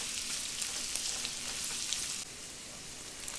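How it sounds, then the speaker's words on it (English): Onions sauteing in ghee over medium-high flame give a steady, close hiss and crackle of frying, continuous and moderately quiet with no talking. "I'm going to saute this in this ghee for some time, at least 3 to 4 minutes, switching between medium and high flame."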